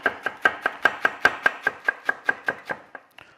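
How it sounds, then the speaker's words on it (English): A knife strikes a cutting board in a quick, steady run of about fifteen crisp, close chops, roughly chopping a fresh herb from the garden for lamb kofta, then tapers off with a few lighter taps; no one speaks. "Let's give that a rough chop."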